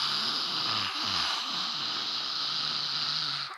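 Slow, steady audible breath drawn in and pushed out through the mouth during a throat-chakra breathing exercise, a continuous close airy hiss with a low rasping edge, alone without talk.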